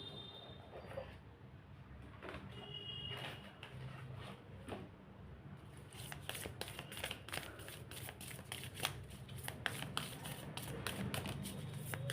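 Tarot cards shuffled by hand, close and quiet: a soft rustle at first, then a fast run of crisp riffling flicks over faint room hiss, no talking.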